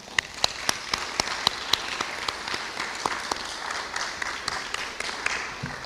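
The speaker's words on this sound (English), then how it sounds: "let's give that a round of applause" A crowd applauding, with dense clapping throughout and a few sharp, loud claps standing out near the start.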